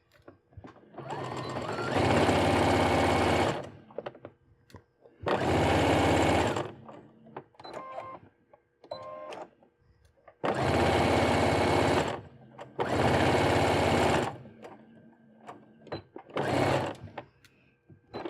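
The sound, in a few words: sewing machine stitching hood ears of a scarf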